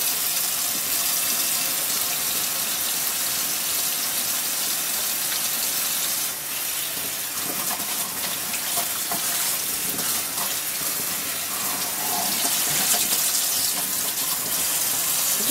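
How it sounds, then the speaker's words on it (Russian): Water from a tap runs steadily into a sink, a continuous, fairly faint rush with no voices. "Видишь, капает?"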